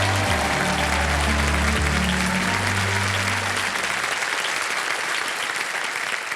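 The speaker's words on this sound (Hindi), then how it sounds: "एक बार फिर जोरदार तालियां बज जाए इनके लिए।" Studio audience on the KBC game show breaking into loud, sustained applause, a thick wall of clapping that continues throughout, with a low musical tone underneath for the first few seconds.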